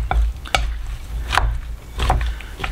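Smashed cucumbers get stirred in a bowl, giving a few wet scraping strokes and sharp knocks spaced across a short stretch, fairly close, with no talking.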